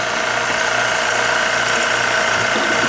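A refrigerant reclaimer pumps liquid through its condenser with a steady, loud mechanical drone and fine rapid clatter, unbroken throughout.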